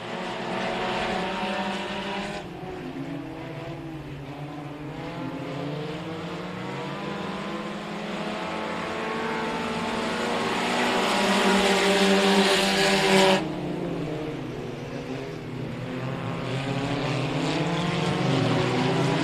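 Modified race cars roar down the back straightaway at Kennedale Speedway Park, several engines droning and rising in pitch as they pass, a loud continuous blend of motors with no voices.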